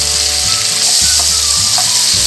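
Ingredients for idiyappam kichadi sautéing in a hot pan, a steady close sizzle and crackle of frying with a few soft stirring knocks throughout.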